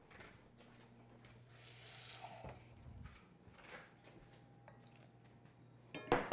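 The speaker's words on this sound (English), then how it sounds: "I'm gonna add just a little bit of water." Tap water running briefly into a mixing bowl while preparing a dog treat batter from baby food, egg, wheat germ and flour, a soft, close hiss with light clinks in a quiet kitchen.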